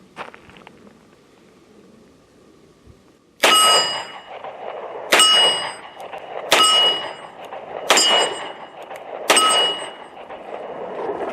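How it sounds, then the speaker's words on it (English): Five .38 Special rounds from a Smith & Wesson Model 642 revolver hit steel, each a loud, bright metallic clang with a ringing tail, evenly spaced about a second and a half apart. "I'm going to fire 5 rounds through the Smith & Wesson."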